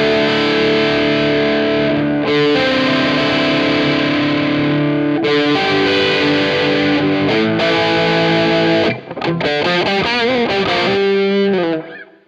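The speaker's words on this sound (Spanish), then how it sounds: "si lo llevamos a tope de distorsión, bueno, no va a ser un pedal de muy alta ganancia" An electric guitar played through a DryBell The Engine pedal at full distortion, loud and sustained chords ringing with a thick, saturated tone, then a quick run of choppier strummed notes before fading.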